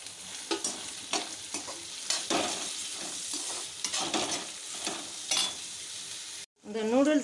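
Vegetables stir-frying in plenty of oil for Hakka noodles give a loud, steady sizzle broken by repeated scraping stirs. Near the end the sound cuts out briefly, then a voice is heard.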